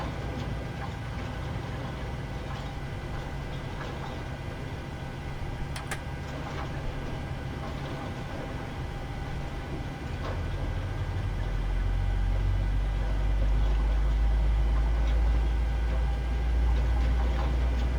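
Engine 1 of a PMDG 737-800 in MSFS 2023 spools up, a steady turbine hum and rumble that grows louder and deeper partway through.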